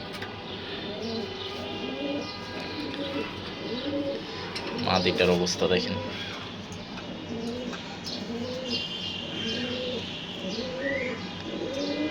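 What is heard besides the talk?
pigeons cooing in a loft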